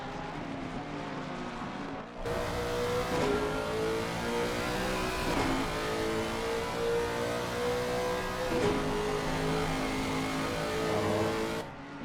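Race cars circulate in a sim racing game at Bathurst, a steady loud engine drone with rising and falling revs and gear changes as cars pass, continuous throughout with no talk.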